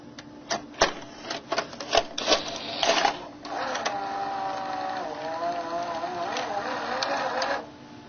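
A VCR mechanism loads a VHS cassette, threading the magnetic tape out and around the tape path: a run of sharp mechanical clicks and clunks, then a steady whirring motor drive with rising tones for several seconds before it stops.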